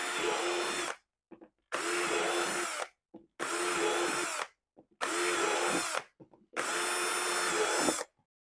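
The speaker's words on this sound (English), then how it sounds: "we're going to use a quarter inch bit to drill our holes, and we're just going to space them out about every inch" A power drill with a quarter-inch bit bores holes in a five-gallon plastic bucket in five separate bursts, each whirring for about a second with brief quiet gaps between them.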